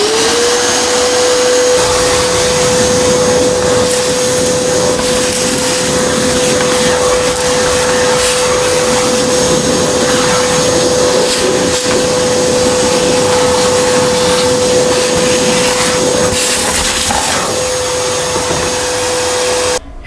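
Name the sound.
Dustless HEPA vacuum running in turbo boost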